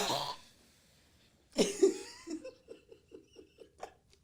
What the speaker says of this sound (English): You know, a little dry cough